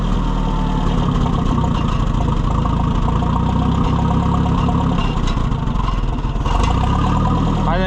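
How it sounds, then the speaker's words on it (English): An Oliver 550 tractor engine idles with a steady, low, loping chug that runs unbroken and close by, with no talk over it. "I think it's idle."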